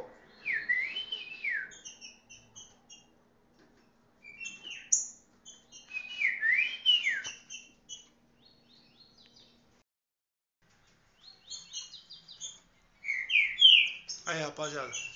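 A captive green-winged saltator sings in short bursts of clear, loud whistled phrases separated by pauses, with softer chirps and a faint background hum between them.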